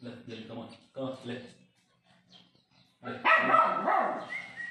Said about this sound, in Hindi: ये भौंके से रहे